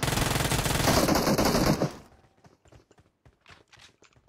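Rapid automatic gunfire bursts loud and dense for about two seconds in a competitive video game scrim match, then cutting out, leaving scattered faint clicks and footstep-like taps.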